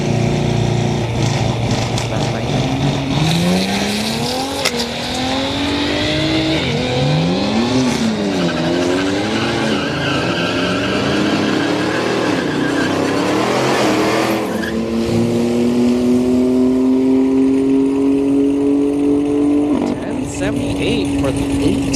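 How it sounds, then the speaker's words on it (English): A Cadillac ATS-V twin turbo and a BMW M3 roar down the strip at a street-night drag race at Orlando Speed World. Engine notes climb and shift through the gears over steady crowd and track noise, and an announcer talks underneath. "we got the Caddy ATS-V twin turbo going up against an M3"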